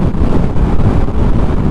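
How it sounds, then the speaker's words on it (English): Loud, blustery wind by a lake buffets the microphone in a constant low roar for under two seconds, with no voices. "it is very breezy at the moment"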